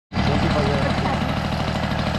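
A restored 1972 Kinetic Luna TFR Plus 50cc two-stroke moped engine starts abruptly and runs at a steady, buzzing idle, close and continuous for the rest of the moment.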